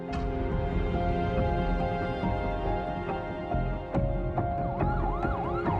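An ambulance siren in Glasgow wails continuously, its pitch sweeping up and down over steady background noise, fairly close and loud throughout.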